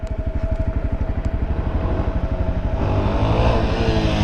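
A motorcycle engine revs hard during a wheelie attempt in first gear. The pulsing exhaust is loud and close, and it climbs into a sustained higher roar near the end.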